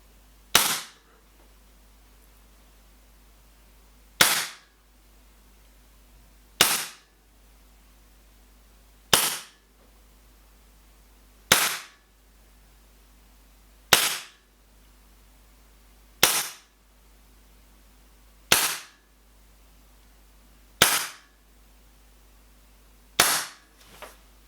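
Ten sharp, loud shots from brand-new CO2-powered Secutor Bellum M9 air pistols fired over a chronograph, spaced evenly about two seconds apart, each with a quick decay, with no talking.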